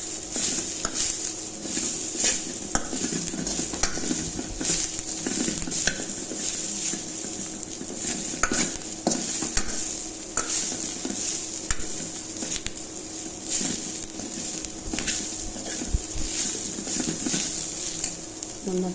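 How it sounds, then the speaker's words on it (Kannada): Cumin seeds fry in a pan with oil while making a coconut green chili chutney, giving a steady close sizzle and crackle with frequent spoon scrapes and stirring clinks against the pan. "ಒಂದು ಸ್ಪೂನ್ ಜೀರಿಗೆ ಹಾಕಿ ಲಾಸ್ಟಿಗೆ ಫ್ರೈ ಮಾಡಿ"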